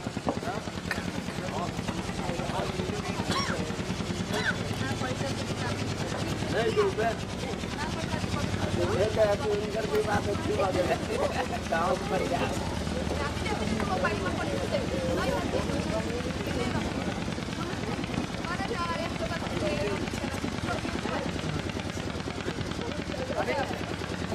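A loud, continuous double boat engine drone chugs throughout with a rapid, rhythmic pulse, while people talk in Hindi over it.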